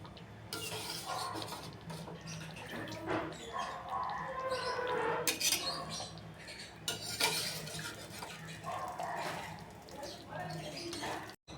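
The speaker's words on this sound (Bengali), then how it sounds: "এবার আমি এখান থেকে পনির তুলে দেব।" Paneer cubes lifted from a bowl and dropped into a pan of well-fried masala, bringing irregular metal clinks, spoon scrapes and clattering over a low sizzle, with a person talking throughout.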